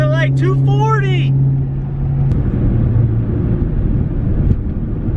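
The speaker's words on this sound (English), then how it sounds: "The idling is doing okay, I guess." An overheating car, a Magnum, idles with a low, steady engine rumble after sitting at a traffic light; someone speaks over it at first, then the idle continues alone.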